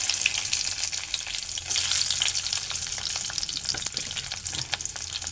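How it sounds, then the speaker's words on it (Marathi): Steady, loud sizzling of onion, curry leaves, bay leaves and spices frying in hot oil, with occasional crackles and the clink of stirring, no voices. "कढीपत्ता आणि तमालपत्र असं मी फोडणीला टाकतो"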